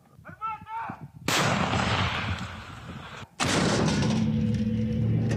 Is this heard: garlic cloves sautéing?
no